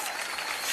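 Audience applause for a guest at a comedy stage show, a brief dense burst of clapping from a crowd that stays steady and loud throughout.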